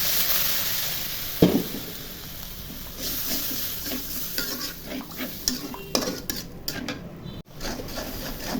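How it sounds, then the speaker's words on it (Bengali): Ground spices (turmeric, chilli, coriander, cumin and salt) fry with ginger and garlic in a pan while being stirred, giving a steady close sizzle with repeated scraping strokes and a sharp knock near the start. "মশলা ভাজতেছি।"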